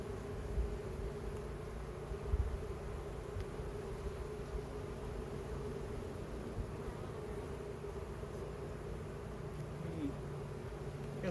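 Honey bees at a new hive with a new queen during an early May inspection, a steady close swarm-like buzzing that holds evenly throughout with faint handling bumps.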